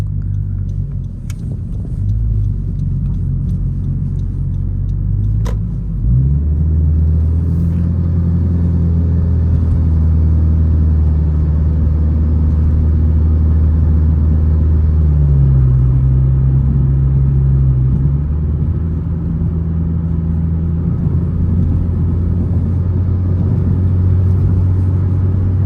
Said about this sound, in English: you guys can hear how it sounds like when I get the car going